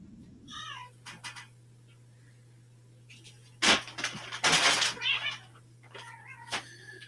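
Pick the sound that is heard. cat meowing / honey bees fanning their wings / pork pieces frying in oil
cat meowing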